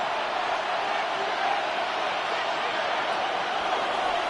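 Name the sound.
stadium crowd cheering in a football video game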